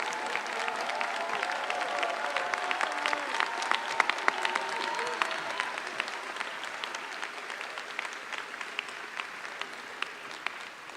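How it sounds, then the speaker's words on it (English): A school commencement audience applauds continuously, a broad wash of many hands clapping at moderate distance that slowly thins toward the end, with no voices over it. "Let's give him one more round of applause for that."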